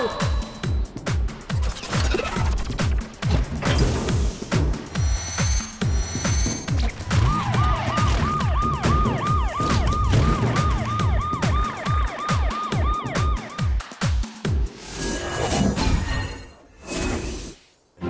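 A police car siren in the Go Go Bus cartoon wails in a rising and falling cycle over lively, bouncy music with rapid percussive beats. The siren is loud and up close in the middle of the clip, and the sound fades out toward the end.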